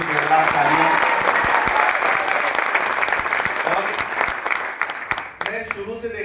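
Loud applause from a crowd at a meet-up event in Gwalior, a dense sustained clapping that fills most of the clip before tapering near the end, with some voices mixed in.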